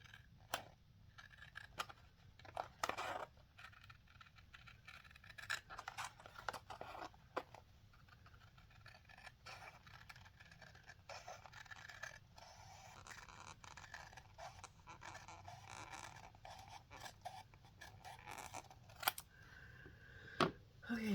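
Scissors cut paper at a crafting table, with faint, close, irregular snips and scrapes that come in bursts over a low background hum and continue through the whole stretch.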